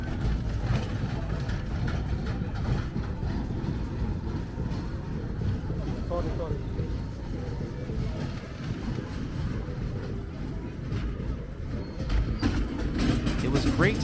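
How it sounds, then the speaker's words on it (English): A carnival amusement ride train at a pop-up fair in Sylvia Park rumbles steadily along its track, a continuous low mechanical drone with rattling wagons, crowd noise and voices mixed in throughout. "The train is moving."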